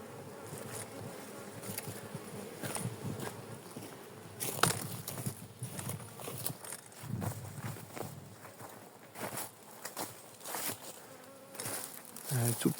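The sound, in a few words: large honeybee swarm buzzing near hive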